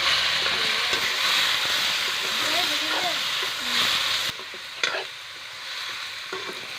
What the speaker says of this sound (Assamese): এতিয়া মাংসখিনি দি লৈ কেনে অকণমান ভাজি ল'ম